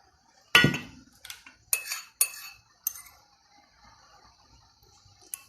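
Utensils clink sharply against a bowl while mixing sauces for Mongolian beef, a few separate metallic taps and scrapes, close and clear with quiet gaps between, and no talking.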